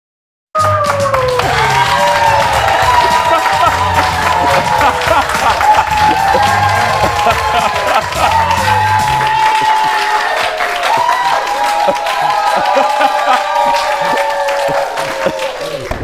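A studio audience claps and cheers in a sustained, loud burst of applause that starts abruptly and carries on steadily, with whoops mixed in and background music running underneath.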